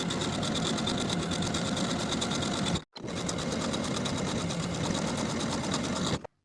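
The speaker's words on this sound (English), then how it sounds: "Then I'll sew each of my buttonholes in place." A sewing machine stitches buttonholes on a linen shirt in a fast, even, rattling run that stops briefly and then resumes for another steady burst before cutting off.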